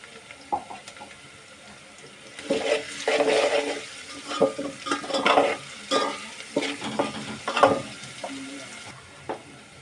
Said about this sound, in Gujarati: અત્યારે આપણો ડુંગળી અડધી સડી ગઈ છે ત્યાં આપણે એડ કરીશું ખાંડેલું લચ્છણ